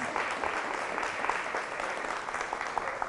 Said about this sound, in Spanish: ese aplauso al Señor y a la Virgen Santísima